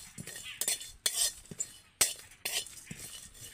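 A spatula stirs dry red chillies, whole garam masala and cumin seeds in a dry kadai, giving irregular close metallic scrapes and clinks with short pauses and no voices.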